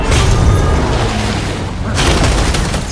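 Gunfire from a James Bond action film, a double-tap pair of shots landing as loud, booming bursts over a dense cinematic score and rumble, with a second heavy burst near the end.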